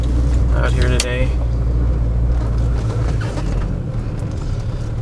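A 1981 VW Rabbit Pickup with a 5-speed manual transmission drives along with a steady, loud engine and road rumble, while someone talks over it throughout.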